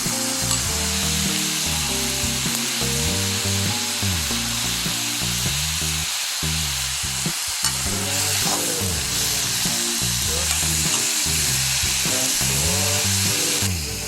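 Tomatoes and other ingredients sauté in hot oil for chicken gravy with a steady, close sizzle. A constant frying hiss runs throughout, with a low hum beneath it and occasional stirring scrapes.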